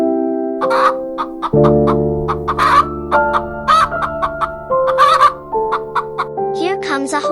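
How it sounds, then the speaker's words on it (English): A hen in a cartoon-style children's farm animal lesson gives a series of short, bright clucks in irregular bursts over a simple backing tune. "This is a hen. Can you cluck like a hen?"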